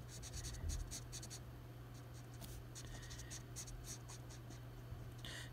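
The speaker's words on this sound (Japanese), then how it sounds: "まず、ベース色はこれ E50 で塗っていくんですけど" Copic alcohol marker laying down skin-tone base color E50 on paper, a rapid series of soft, dry scratchy strokes in quick rhythm, close and quiet over faint room hum.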